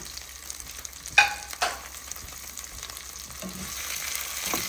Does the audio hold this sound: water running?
no